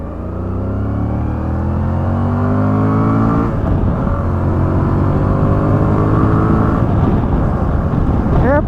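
A Voge 625 DSX 2025 motorcycle engine running loud and close, climbing through steady revs with a deep rumble and a gliding rise in pitch.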